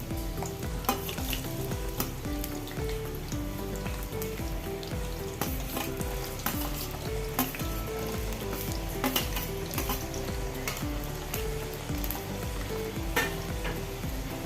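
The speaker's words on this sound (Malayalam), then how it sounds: "എണ്ണ ചൂടായി ഉരുളക്കിഴങ്ങ് ഇട്ട് കൊടുക്കാം" Potatoes fry in hot sunflower oil with a continuous, busy sizzle and crackle, close and steady throughout, dotted with small pops.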